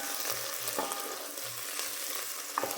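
Onions fry in a hot pan with a steady soft sizzle, with a few light stirring taps breaking through the continuous crackle.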